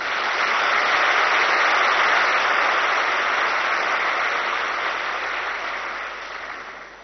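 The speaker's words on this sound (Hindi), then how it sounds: "तो इसी खुशी में एक जोरदार ताली बजाओ।" An indoor audience applauds in a spiritual gathering hall, a dense steady wash of clapping from many hands that holds strong and then gradually fades away.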